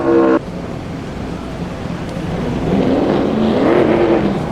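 A NASCAR Sprint Cup race car runs a qualifying lap at Phoenix, its engine a steady, broad roar that swells and rises in pitch as it draws nearer, a short loud burst at the very start.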